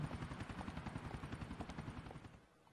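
A police helicopter in the video game GTA IV thumps with rapid, rhythmic rotor pulses, faint and steady, then fades away near the end.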